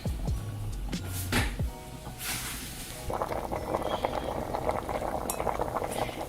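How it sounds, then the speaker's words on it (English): A pot of Jamaican gungo peas soup boils with a dense bubbling that rises after a few clinks and knocks from a spoon and lid, heard close and with no one talking. "I'm gonna allow that to boil while I go ahead and peel the yam."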